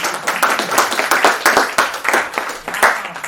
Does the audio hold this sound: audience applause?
yes